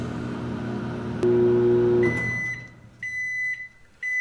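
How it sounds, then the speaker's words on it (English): A microwave oven running a vinegar steam clean hums steadily, then a long tone sounds, followed by a series of high electronic beeps at the end of the cycle. "set it in the middle of the microwave and time it for 7 minutes, and we'll get that going"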